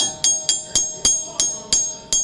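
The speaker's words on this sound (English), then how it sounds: "so little hammer, a little punch," A small hammer strikes a punch against a car part during ABS repair work, eight sharp metallic taps at an even, unhurried pace, close and ringing, with no voices.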